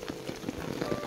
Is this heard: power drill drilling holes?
no